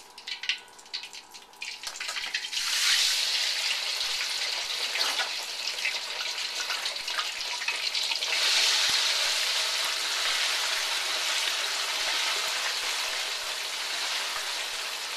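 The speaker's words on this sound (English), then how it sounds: "You can see the scallops are sizzling a little bit" Scallops sizzle in cooling oil with a steady, gentle crackling hiss that swells after a few seconds and continues evenly.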